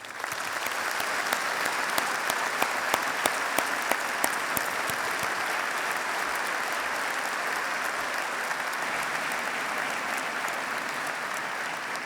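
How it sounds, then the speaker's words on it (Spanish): Sustained applause from a gala awards audience fills a hall, dense and even clapping at moderate distance that holds steady throughout, with no voices heard. "Mi aplauso, nuestro aplauso sincero esta noche también para todos vosotros"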